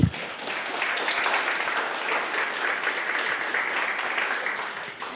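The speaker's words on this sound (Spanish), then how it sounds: "Dele un aplauso al Señor" A church congregation claps and applauds for the Lord in a Spanish-language service, a sustained, fairly soft ovation with scattered individual claps standing out, the burst continuing evenly for several seconds.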